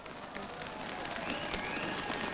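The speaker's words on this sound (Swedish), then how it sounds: "ni är värd en applåd för det här va?" Outdoor crowd applause at a cold New Year's Eve celebration at Skansen in Stockholm, a steady dense wash of clapping and cheering, fairly distant and continuous.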